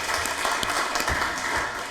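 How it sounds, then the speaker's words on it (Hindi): Audience applause at an interview show, a dense, steady burst of clapping filling the room for a couple of seconds. "कांता आंटी जी के लिए जोरदार तालियां हो जाएं।"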